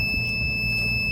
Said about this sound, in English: Alarm goes off, telling you it's heated up.